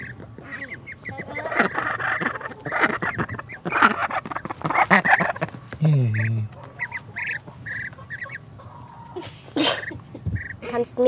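A small duckling and a larger new duck fight, with loud, repeated honking quacks and harsh squawks in irregular bursts, while people talk nearby.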